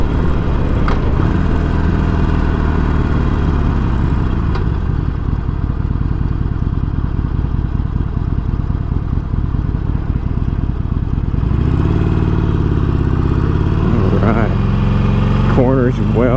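A 2018 Harley-Davidson Forty-Eight motorcycle rides along the road with a continuous, loud engine rumble and wind noise, its pitch shifting near the end as the rider changes speed.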